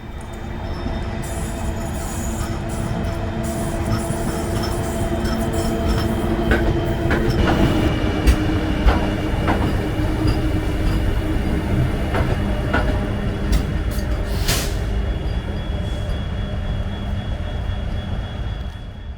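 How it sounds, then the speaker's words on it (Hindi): Vande Bharat Express train pulling out of the station toward Delhi, a steady loud rumble of wheels on rails with metallic squeals and clacks building as it passes, no voices. "ये वंदे भारत अपने तय समय पर आगे दिल्ली की ओर निकल गई।"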